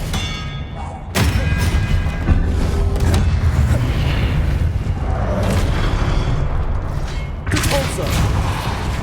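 Confringo fire spell explosions in the game Hogwarts Legacy: loud, heavy booming blasts with rumbling thuds that fill the foreground, with a voice casting spells in between.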